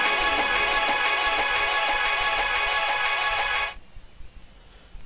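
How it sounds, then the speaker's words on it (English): Audio processed through a fade-to-gray effect rack in Ableton Live: a dense, bright sustained sound with a pulsing rhythm plays loudly for nearly four seconds, then cuts off abruptly into quiet low noise. "I have fade to gray, so fade to gray sounds something like this."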